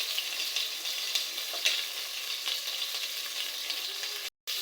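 Mint leaves and green chillies fry in hot oil, giving a soft, steady sizzle with faint crackles and stirring scrapes, close and quiet with no voices, briefly cutting out near the end.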